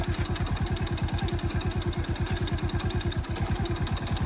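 A vehicle engine runs steadily on a muddy rural track, its rapid, even low pulsing close and loud throughout, with a faint high whine above and no talking.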